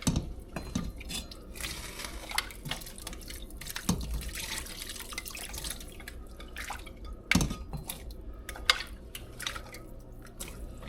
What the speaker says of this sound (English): So we're going to add in our turnip and carrot.